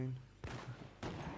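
Arquebusiers fire musket volleys in the video game Shogun 2: two sharp, crackling ragged bursts about half a second apart, loud and close, with a brief fading rumble after each.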